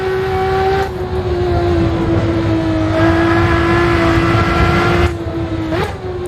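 A Ferrari F50 engine in the Assetto Corsa racing game revs hard and sustains a loud, close, high whine, with shifts at about one, three and five seconds that briefly drop the pitch before it climbs again.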